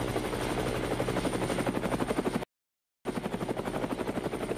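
A low-flying aircraft in a Roblox game, about to land, throbbing steadily with rapid rotor-like pulses, loud and close, cut by a brief gap of silence before resuming.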